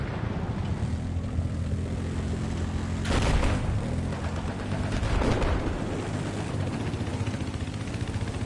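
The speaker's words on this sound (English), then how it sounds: "helicopter." A helicopter drones steadily in a Battlefield 4 match, a loud low rotor rumble under blasts of gunfire and a couple of heavier explosive bursts.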